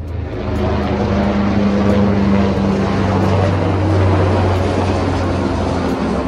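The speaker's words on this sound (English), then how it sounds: "Helicopter." A helicopter passing over a beach in Malaysia, a loud, steady droning rotor and engine roar that holds constant throughout with a slight pitch shift midway, no talking.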